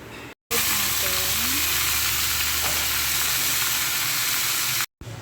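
Chicken marinated in ginger, garlic, barbecue sauce, ketchup and sugar fries in a pan, giving a loud, steady sizzle that fills the whole stretch without a break.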